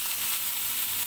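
Chicken breast sizzling in a little olive oil with onions, a steady close hiss of frying that holds evenly for about a second with no talk.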